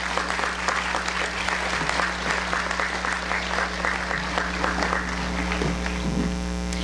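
A senior awards ceremony audience applauds award-winning students with continuous, even clapping from a full room, steady throughout, over a constant low electrical hum.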